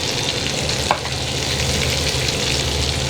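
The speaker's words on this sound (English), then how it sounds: "Now we will just stir fry all the vegetables together for around 2 minutes." Green chillies, spring onion greens, capsicum and onions are stir fried together in a pan, with a steady loud sizzle running throughout and one brief scrape of the spatula near the start.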